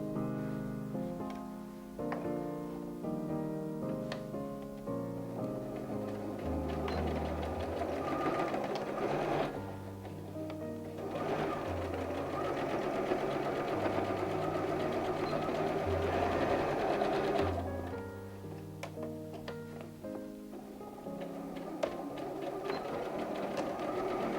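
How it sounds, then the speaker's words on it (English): A sewing machine stitches a recycled denim bag in long, whirring runs with rapid needle clatter, pausing briefly between seams before starting up again, close by with no talk. "So we're going to sew from here to here and the same on the other side."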